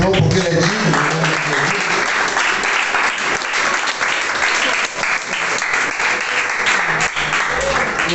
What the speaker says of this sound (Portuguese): Você que pode, aplauda o nome do Senhor, porque Ele é digno.